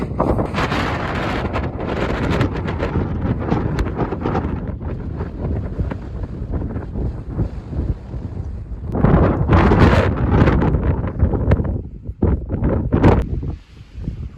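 Strong wind on a hilltop on the Appalachian Trail in Maine buffets the microphone in heavy, roaring gusts, rising and falling without pause and with no one speaking.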